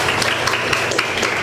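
A classroom of children claps together for a classmate: a dense, steady patter of many hands through the whole short stretch, moderately loud with no talking over it.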